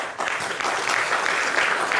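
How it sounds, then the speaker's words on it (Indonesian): Audience at a public political debate forum applauds for a student, a dense wash of clapping that swells slightly after the opening and continues steadily and fairly loud to the end. "Tepuk tangan buat mahasiswa ini."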